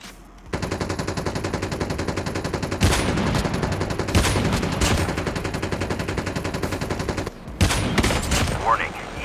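Rapid automatic gunfire in the video game Call of Duty Mobile rattles continuously at close range, with louder bursts and explosions layered in and a brief lull near the end.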